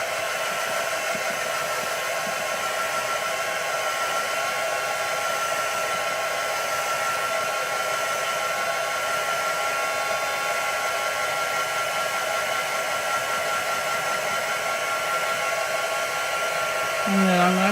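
A hair-dryer-style heat tool blows continuously on wet paint on a craft project, a steady, even whirring hiss held for the whole stretch, close and unchanging, with a slight shift at the very end.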